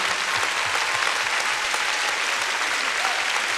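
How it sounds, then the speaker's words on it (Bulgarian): Sustained, even applause from a concert crowd at a performance honours the song's composer, a thick continuous roar of clapping that holds steady for the whole stretch. "Аплодисментите са за композитора на тази песен"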